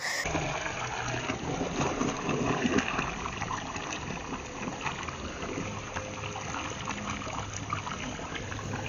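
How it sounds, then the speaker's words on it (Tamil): Water from washing wheat runs off steadily onto plants outdoors, a continuous rushing, trickling flow that stays close and even for the whole stretch, with no talk over it. "இங்கே வந்து கழுவுனா கூட அந்த தண்ணி எல்லாமே அப்படியே செடிக்கு வந்து"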